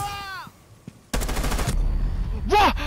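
Rapid burst of gunfire in Rainbow Six Siege, a loud dense volley of shots lasting about half a second, preceded by faint game sounds and followed by a sharp electronic whine.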